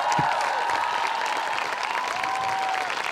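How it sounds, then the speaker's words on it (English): Crowd applause at a climate strike rally in Berlin, steady dense clapping from a large outdoor audience that holds for several seconds, with a faint tone running underneath. "Well, first an applause."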